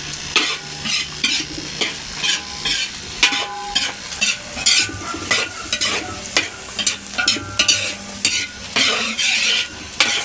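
Beef fried rice sizzles in a hot pan of melting butter, with close, rhythmic stirring scrapes of a utensil against the metal over a constant frying hiss.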